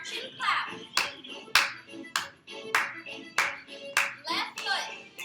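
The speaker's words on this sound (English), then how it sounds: "Then march and clap." Chair Zumba class clapping along in a steady beat, sharp claps about every half second with light shuffling between, close and fairly loud, with no talking over them.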